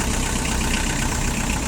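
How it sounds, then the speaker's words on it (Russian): Steady idle of a four-cylinder Kubota Saturn X20 four-wheel-drive mini tractor, recorded up close as a continuous low, slightly knocking rumble with no voices. "мини-трактор Kubota Saturn X20"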